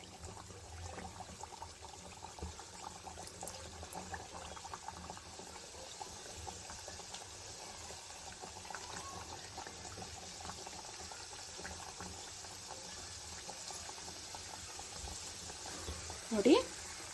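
Snack pieces deep-fry in hot oil in a pan over a medium flame, a steady close sizzle and bubbling that runs on quietly, with a voice talking over it and a sharp clatter near the end.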